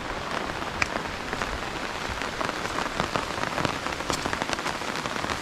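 Light rain falls steadily on surfaces at a rural Philippine farm at night, a soft continuous patter with scattered distinct drops, fairly quiet and with no voices.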